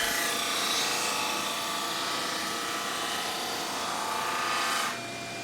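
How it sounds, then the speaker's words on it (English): A woodworking drum sander running in a home woodshop while picture frames are made, a loud steady whirring rush that drops sharply near the end as it winds down, with no talk. "And this is a drum sander, not a planer."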